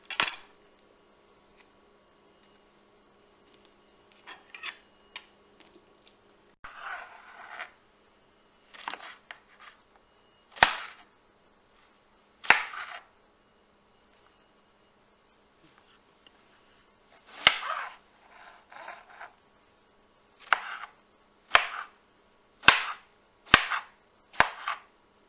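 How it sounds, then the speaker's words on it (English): A knife slices through a whole eggplant in a run of crisp, separate cuts, spaced irregularly at first and then coming in a quicker cluster near the end, close and fairly loud, with quiet gaps between them. "So in preparation for the eggplant, we're going to slice it."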